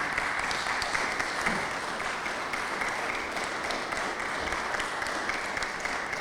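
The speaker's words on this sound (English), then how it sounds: "A round of applause, please." Sustained, dense applause from a crowd at a Waterbury veterans ceremony honoring the police and fire department contingents, a steady roar of clapping with no talk over it.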